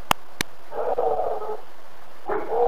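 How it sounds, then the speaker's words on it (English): Pet dogs, one of them a beagle, bark indoors: two sharp barks up front, then a longer whining, yelping stretch and a final whimpering yip, fairly close and moderately loud. "My dogs just started barking."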